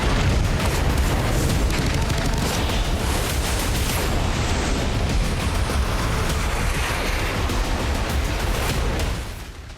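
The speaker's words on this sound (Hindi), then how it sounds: "इस वॉर एक्सरसाइज के दौरान ताबड़तोड़ एंटी शिप और एंटी एयरक्राफ्ट फायरिंग के जरिए इंडियन नेवी के हर हथियार" Indian Navy war exercise with rapid anti-ship and anti-aircraft gunfire off the Gujarat coast, a loud, dense, unbroken barrage of booming blasts and crackling bursts that fades slightly at the very end.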